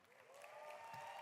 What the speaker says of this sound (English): we can give a round of applause for our presenting sponsors